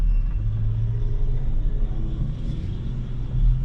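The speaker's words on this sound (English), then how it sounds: "I hear a nice Honda going" A Honda car engine runs in a steady, fairly loud drone with a low rumble that holds without a break.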